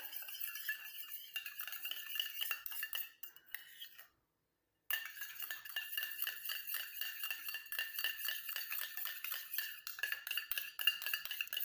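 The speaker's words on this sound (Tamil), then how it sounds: "இது ரெண்டையும் சேர்த்து நல்லா கலந்து விடுங்க" A spoon clinks and scrapes around a small bowl while sesame oil is mixed into a home remedy, in a quick, steady rhythm close up, with one brief silent gap partway through.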